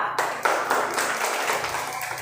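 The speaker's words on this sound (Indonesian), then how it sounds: "silakan duduk tepuk tangan semua" A group of people clap their hands after being told to sit down in a classroom-style session, a sustained patter of claps with a few sharper accents, fairly close and steady for about two seconds.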